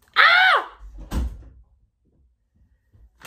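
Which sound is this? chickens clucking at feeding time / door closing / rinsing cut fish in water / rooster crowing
door closing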